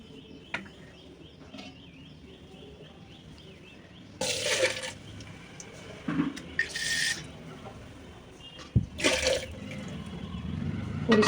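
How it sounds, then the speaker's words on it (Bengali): Water is poured over a Shiva lingam to clean it during a Shravan Monday puja, coming in three or four short splashing bursts with quiet pauses between. "প্রথমে জল ঢেলে পরিষ্কার করে নিই বাবা মহাদেবকে"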